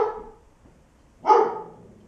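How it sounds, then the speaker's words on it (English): A dog gives two sharp barks, one at the very start and another just over a second later, close and fairly loud, with quiet in between. "Starts out with Moxie barking."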